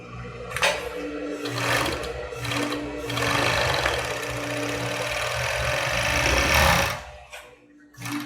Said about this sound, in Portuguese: aqui eu vou passar um overlock, né, em volta aqui na parte de cima